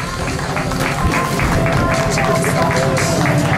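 An audience applauds the Tyrolean cycling team at a bike race: loud, steady, dense clapping from a crowd that fills the whole stretch, with an announcer's voice over it.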